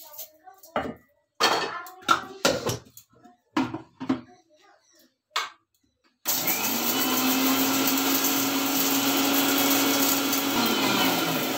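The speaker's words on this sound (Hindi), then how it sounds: "अभी इसको मिक्सी में पीस लूंगी।" A kitchen mixer grinder (mixie) grinding roasted ingredients for lemon pickle runs as a loud, steady whirring drone for several seconds, after someone speaks and handles utensils briefly beforehand.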